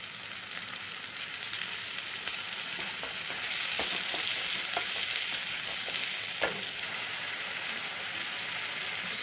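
Green capsicum sautés in a pan for masala noodles, a soft continuous sizzle with scattered spatula scrapes and taps, fairly quiet and close.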